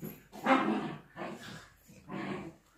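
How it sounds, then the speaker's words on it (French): Dogs barking and yipping in three bursts, mid-distance, with playful whimpering between them and no speech. "c'est les chiens qui jouent ensemble"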